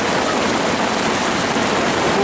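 Heavy monsoon rain pours steadily during flooding in Valenzuela, a dense, loud, continuous hiss of water with no letup across the whole stretch.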